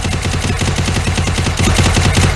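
Rapid automatic gunfire from a mobile phone shooting game, a loud continuous burst of fast, evenly spaced shots filling the whole stretch.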